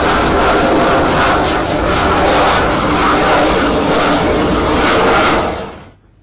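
Fighter jet passing overhead at the Aero India air show in Bengaluru, a loud continuous roar of engine noise that holds steady for several seconds and then cuts off sharply.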